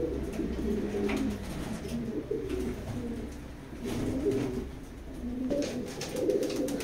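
A racing-breed pigeon in a loft coos in repeated low, throaty bursts, close by, with short pauses between calls and no one speaking.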